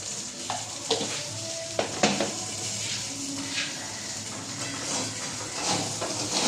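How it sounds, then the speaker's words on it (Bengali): Rice fries in a pan with green chillies, turmeric powder and cumin for khichuri, a low steady sizzle punctuated by a few sharp scraping and clinking stirs of utensil against the pan, with no voices. "মিক্স করে এখন এটা ভাজা হবে।"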